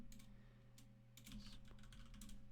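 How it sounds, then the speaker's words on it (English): Quiet typing on a computer keyboard, scattered clusters of soft key clicks in uneven bursts over a steady low electrical hum, heard alone. "let me just type in."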